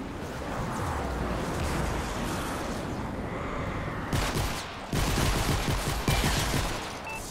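Rapid bursts of gunfire from the Fortnite video game crackle through a dense battle mix, growing louder and more clustered in the last few seconds, with no talking.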